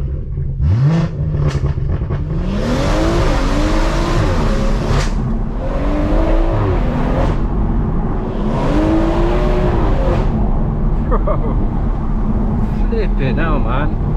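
A 480 bhp stage 2 BMW M140i with a B58 engine drives on a public road, its engine rising and falling through loud repeated revs and gear changes, with road and tyre noise under a voice talking throughout.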